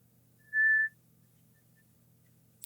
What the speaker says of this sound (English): I've been trying to learn how to whistle with my fingers, like a dog whistle.